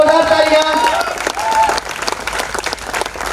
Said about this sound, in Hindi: रवि शर्मा के लिए जोरदार तालियां।